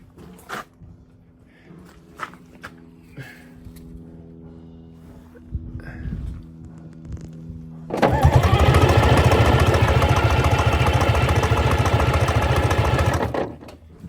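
Clanks and rattles give way to an old Rolls-Royce engine, unstarted for 13 years, catching and roaring into loud, steady, high-rev running held by the governor for several seconds before cutting off.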